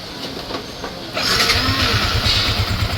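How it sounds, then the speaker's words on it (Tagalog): Yamaha Sniper 155 motorcycle engine cranking, then catching and settling into a steady, fairly loud idle with a rapid low pulsing beat, close by. "So, buhayin natin yung motor. Pakinggan natin yung andar."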